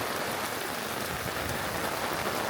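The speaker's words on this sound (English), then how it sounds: "and now it pours down with rain." Heavy rain pours down steadily at a campsite, a dense, loud hiss of drops drumming on surfaces with no pauses and no voices.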